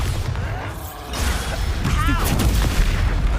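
Bombarda blast spell going off in Hogwarts Legacy, a booming explosion with rumbling low end and crackling debris, followed by swirling magical whooshes and mechanical clatter, loud and close.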